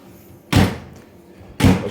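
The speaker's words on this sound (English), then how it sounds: "Oh, it's a fucking door." A door slams shut twice in an office kitchen area, two loud, sharp thuds about a second apart with quiet room noise between them.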